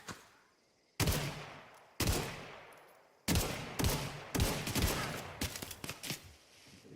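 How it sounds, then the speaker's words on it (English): Gunfire in The Outer Worlds video game: a loud burst of shots, then several more rapid bursts and single shots in quick succession, each with sharp onsets and short decaying tails, no talking. "Why don't we just start shooting?"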